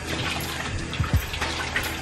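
Hot water running from a tap while makeup is washed off: a continuous hiss of flowing water with a few splashes and gurgles near the listener, moderately loud.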